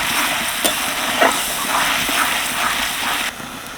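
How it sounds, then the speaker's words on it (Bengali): Onion and tomato paste sautéing in a pan, a steady close sizzle with a few scraping stirs breaking through, dropping slightly quieter near the end; no talk. "টমেটো পেস্টটা দিয়ে এবার ভালো করে কষিয়ে নেব"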